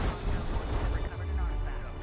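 Artillery barrage from siege units in a competitive real-time strategy match, with dense rumbling booms and rapid impacts rolling continuously under a busy battle mix.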